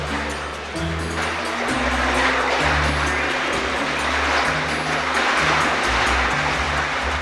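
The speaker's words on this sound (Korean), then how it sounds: "이거는 또 파도까지 만들어주는 건가요?" Water churned by the current machine of a small swimming pool, a loud continuous rushing and sloshing surge with a steady low mechanical hum underneath.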